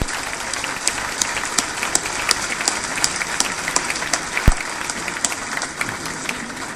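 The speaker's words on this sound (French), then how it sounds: "Je vous demande donc d'applaudir Anne Zelensky" Sustained audience applause for a women's rights league president at a French-language gathering, a steady dense wash of clapping with a few sharper claps standing out near and loud, no talk over it.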